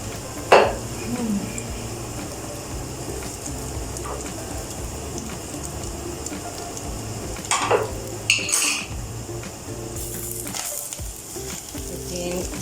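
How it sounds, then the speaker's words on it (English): Minced garlic frying in a pan, a soft continuous sizzle broken by a sharp utensil knock early on and a few clattering scrapes of stirring later, close and fairly quiet, with no speech. "stir it to mix the garlic and fry it equally"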